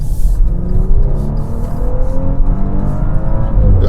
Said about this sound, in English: we're in sport mode now. Let's kind of go through this twisty section here a little bit, and give it some acceleration again.